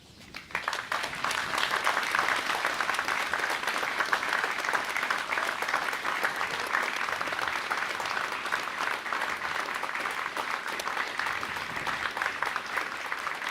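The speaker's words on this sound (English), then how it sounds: "join me in a round of applause for our graduating" Sustained, even applause from a standing audience at a fire communications recruit graduation ceremony, dense clapping rising quickly after a quiet start and holding steady for the full stretch without talk.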